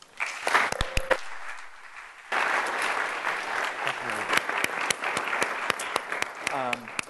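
An audience welcomes speaker Chris Lowney with warm, sustained clapping that swells after a brief lull and continues steadily, many hands close and loud, with a voice briefly audible over it.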